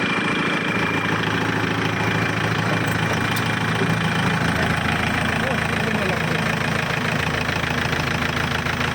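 A Kubota L4708 tractor engine idles at a steady, close rumble with light knocking, running continuously while someone talks over it.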